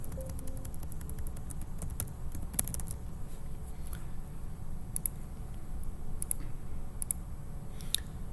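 Quiet, irregular clicks of typing on a computer keyboard, a few scattered keystrokes and short bursts over a low background hum.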